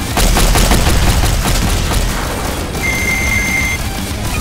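An enemy shooting two guns at once in Doom with the Project Brutality mod, a loud, steady rattle of rapid gunfire that keeps going without a pause, with a short electronic beep tone near the end.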